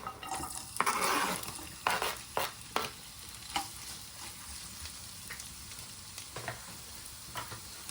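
Carrots sizzle steadily in an oiled pan, broken by several sharp clatters of a utensil stirring and scraping against the pan.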